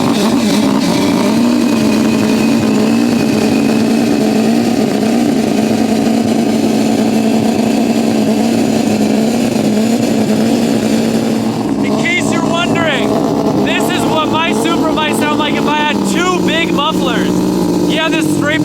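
Straight-piped Toyota MK4 Supra engine idling loudly with a low, uneven throb, then revving in several quick rising bursts near the end, close up, with a voice talking over it.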